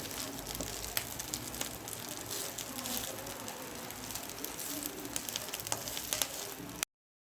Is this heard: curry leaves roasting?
yes